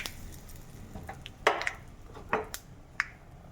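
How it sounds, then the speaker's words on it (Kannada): Curry leaves dropped into a pan of hot oil while cooking sambar, giving a few sharp pops and spatters close by over a low background hiss, without talking. "ಕರಿ ಲೀವ್ಸ್ ಹಾಕ್ತಾಯಿದ್ದೀನಿ"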